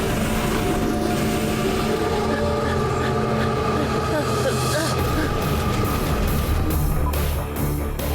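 A cartoon train rumbles along at speed with a continuous loud, dense roar and clatter, while voices talk over it.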